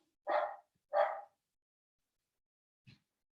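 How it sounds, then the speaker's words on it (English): A small dog barks twice in quick succession, then gives a softer short yelp a moment later, off in the background of an otherwise quiet room. "just ignore that little naughty dog barking in the background"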